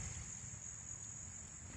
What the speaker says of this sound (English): the bugs are crazy